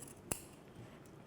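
A single quick snip of scissors trimming excess fabric at the neckline of a draped back panel, a short sharp click in an otherwise quiet room.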